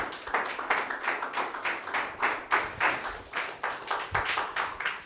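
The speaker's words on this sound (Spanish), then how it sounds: "Un aplauso para Jesús" A church congregation claps together at a Spanish-language worship service, a steady run of loud, evenly paced handclaps for Jesus that fills the room, with no talking over it.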